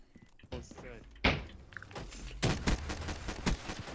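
Pistol shots in Call of Duty Black Ops 3, a few sharp close bangs and thuds mixed with game noise and a voice talking over them.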